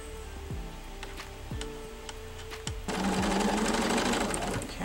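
A sewing machine stitches woven quilt block fabric, opening with a few light mechanical ticks and clunks, then settling into a steady, close, fast whirring run for the final couple of seconds.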